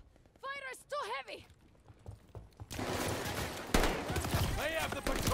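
Heavy gunfire crackles through a World War II shooter battle in Enlisted, dense overlapping shots and bursts rumbling at mid distance under voice chatter, with whistling incoming fire and a loud burst near the end.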